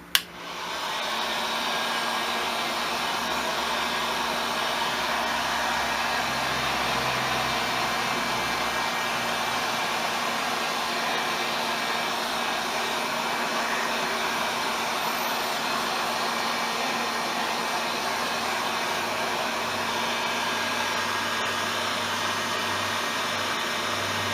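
Heat gun blowing hot air to dry paint on a craft project, a steady loud whooshing roar with a faint motor hum, running unbroken for the whole stretch after a brief click at the start.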